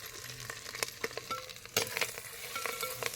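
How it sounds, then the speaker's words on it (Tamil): Adamant creeper, ginger, garlic and curry leaves sauté in a hot pan for thuvaiyal, a steady close sizzle with clicking stirs and scrapes, including a sharper stir near the middle, with no talking. "எல்லாத்தையும் சேர்த்து நல்லா வதக்கிக்கா"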